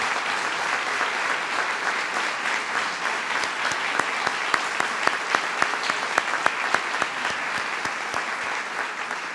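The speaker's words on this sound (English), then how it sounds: "please give them a big round of applause" Steady, dense applause from a large crowd, continuing at an even level throughout, with a few sharper individual claps standing out.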